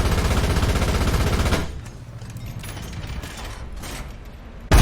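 Tank gunfire in the War Thunder video game: a loud, dense burst of rapid mechanical firing runs for about a second and a half, then drops to quieter rattling and clanking, with a sharp hit at the very end.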